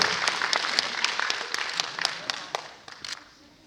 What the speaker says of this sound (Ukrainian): ваші оплески є початок нашого фестивалю